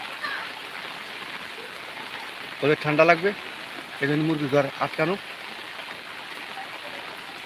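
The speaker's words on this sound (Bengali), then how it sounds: "এত বৃষ্টি হচ্ছে" Heavy rain falls steadily at a chicken farm in Mukshudpur, a broad even hiss running throughout, with someone talking briefly over it in the middle.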